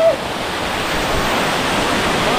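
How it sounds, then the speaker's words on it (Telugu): Katiki waterfall at Araku, near Visakhapatnam, rushes in a steady loud wash of falling water, continuous and broadband throughout, with a faint brief tone at the start. "అద్భుతమైన వాటర్ ఫాల్ చూసినాం కదా"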